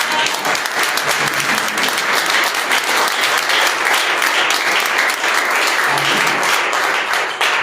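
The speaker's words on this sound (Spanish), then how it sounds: "Démosle un aplauso al Rey" A church congregation breaks into loud, sustained applause for the King during a sermon, dense continuous clapping that holds steady from start to finish with a faint voice briefly underneath.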